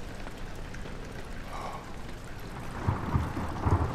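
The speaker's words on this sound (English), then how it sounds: "I hear rain." Rain falling in the horror video game Amnesia, a steady soft wash of drops with a low rumble building near the end, heard alone at moderate volume.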